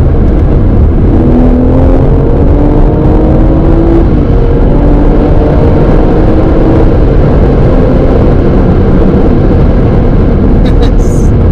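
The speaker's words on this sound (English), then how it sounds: "4th gear, going to change that to 3rd." A car engine drops from fourth to third gear, a loud, close, continuous drone with rising and falling pitch as revs change, while someone talks over it.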